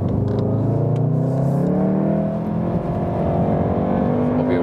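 A 310 hp all-wheel-drive VW Golf R facelift accelerates hard on a racetrack, its engine note climbing steadily in pitch through the gear, loud and close, with no talk over it.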